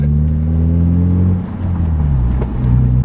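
A stick-shift car's engine idles while warming up, a loud, close, low droning hum with a slight dip in pitch partway through, steady and without voices.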